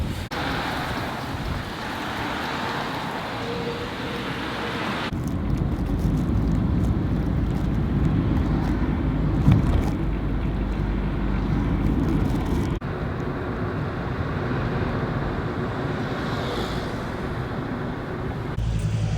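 Gusty wind on a street in Kyrgyzstan rumbles and thumps against the microphone, loud and continuous, with a couple of abrupt shifts in tone and no voices.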